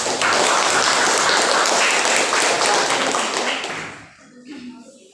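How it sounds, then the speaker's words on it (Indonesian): A classroom of students claps for a presentation group, dense steady applause that fills the room for about four seconds before tapering off into quiet room noise. "tepuk tangan untuk kelompok yang terdepan."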